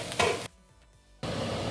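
A pot lid set down on a pan of baby okra frying with pickle spices: a clatter and sizzle, then a short muffled hush under the lid before the frying sizzle returns, close and with no talk.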